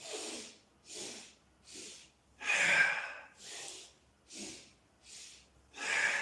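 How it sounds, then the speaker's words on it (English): Slow, deep breaths during a breathing exercise, alternating inhales and exhales in a steady rhythm, about eight soft breath sounds close to the microphone with brief pauses between, no talking. "Breathe in, up, out, still breathing in, up again, breathe out, down."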